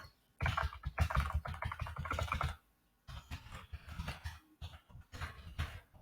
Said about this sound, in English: I'm just typing in any random name.